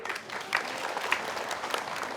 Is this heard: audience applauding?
yes